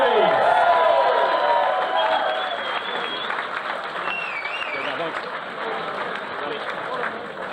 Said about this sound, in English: So, another big cheer for Alex and Simon and for all your referees.